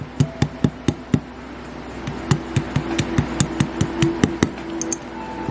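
A small tool taps a Yamaha Blaster carburetor body to drive out a dowel: a quick run of sharp, close metallic taps, a pause, then a longer, steadier series of lighter knocks, with no talk.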